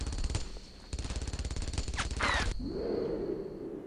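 Machine gun fire in the World War II shooter game Brothers in Arms: Earned in Blood, rapid close bursts of rattling shots with a brief break, then a whooshing trail and a lingering rumble as the firing stops.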